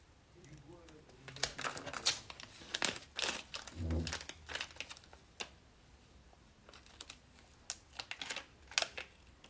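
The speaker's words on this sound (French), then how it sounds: "Je retire mon tape tout délicatement." Adhesive transfer tape peeled slowly and carefully off a vinyl cut made on a Silhouette cutter, giving close crinkling and ripping bursts with small pauses, faint talk in the background.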